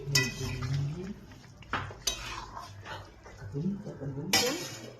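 A pot of katla fish curry with flat beans and potato is lifted off a home stove, giving a few sharp metallic clanks and scrapes against the burner, close and fairly loud. A low rumble and voiced sounds run underneath.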